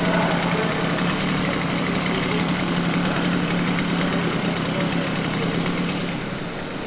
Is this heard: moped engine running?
yes